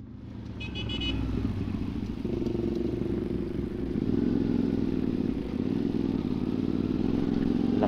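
A GPR motorcycle ridden at 3 a.m. on a night ride home, its engine droning steadily and close with a low rumble that swells slightly midway, accompanied by road and wind noise and no voices.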